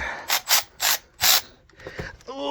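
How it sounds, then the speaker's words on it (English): A hand ratchet tightens bolts on a Volvo Penta engine in a 1971 Land'N Sea boat, giving four loud, close bursts of clicking strokes, then softer clunks and a short metallic ring at the end. "I'm going to tighten up these bolts in here."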